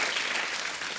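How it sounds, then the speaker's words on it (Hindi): Dense, loud studio audience applause on The Kapil Sharma Show for Salman Khan and Katrina Kaif, a steady wash of many hands clapping at once with no pause. "तो जोरदार तालियां सलमान भाई के लिए और कैटरीना मैम के लिए।"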